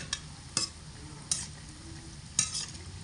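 Ripe banana and flour batter fritters fry in oil over low to medium heat, a soft constant sizzle broken by a few sharp scraping clicks of a spatula.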